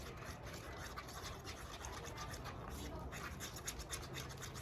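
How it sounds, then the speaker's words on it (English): A two-part mixture of white part A and black part B gets stirred in a jar, a steady faint scraping and rubbing that runs throughout with low background noise. "So it says on the thing to stir for 3 to 5 minutes."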